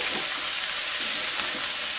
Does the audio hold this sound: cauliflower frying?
yes